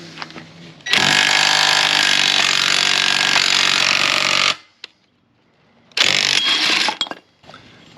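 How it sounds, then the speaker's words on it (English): A pneumatic impact gun hammers loose the rear suspension bushings on a 2004 Pontiac GTO, loud and close in two bursts, one long and steady and one shorter, with a silent pause between them. "I'm going to cheat and use the impact gun."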